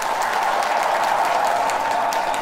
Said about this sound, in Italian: Farei quindi un applauso